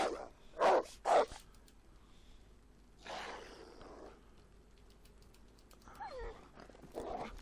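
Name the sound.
dogs barking outside in the video game DayZ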